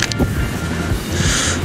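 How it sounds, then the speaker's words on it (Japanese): Strong, gusty wind blasts across an open lakeshore during a fishing outing, a dense, steady roar buffeting the microphone throughout, with no one speaking. "ちょっと風吹きすぎかなやっぱりな"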